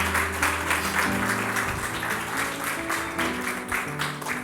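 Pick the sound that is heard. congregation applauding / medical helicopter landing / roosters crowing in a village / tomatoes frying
congregation applauding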